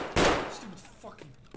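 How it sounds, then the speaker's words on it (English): A player scav fires a slug shotgun in Escape from Tarkov: one loud sharp blast with a decaying tail, followed by fainter clanks and shuffling. "I run into another player scav with a slug shotgun who tries to take me out"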